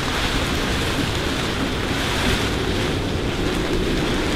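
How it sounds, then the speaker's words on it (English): Strong gusting wind of about 40 knots roars around a sailboat twisting on its moorings off Italy, with waves sloshing in a loud, steady, unbroken wash of noise. "The wind is so bad, coming through so strong that we're twisting on our moorings."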